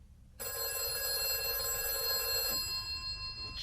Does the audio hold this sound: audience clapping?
no